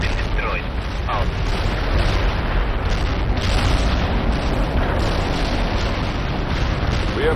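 Artillery barrage in the video game World in Conflict: a dense, continuous roar of heavy explosions and rumbling booms, loud and sustained with no clear gaps.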